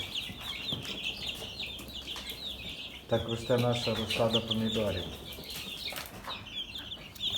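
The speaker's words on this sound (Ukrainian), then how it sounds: "в нас тут ще мешкають ось такі курчата" Three-week-old chicks kept on a ninth-floor balcony let out a short run of soft, rapid peeping clucks in the middle, alongside some fluttering and background noise while a person talks.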